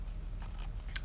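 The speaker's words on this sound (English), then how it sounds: "you can see that I just snip off little pieces here and there" Scissors snip small pieces of paper in a quiet room, giving a few short, crisp close cuts at an uneven pace.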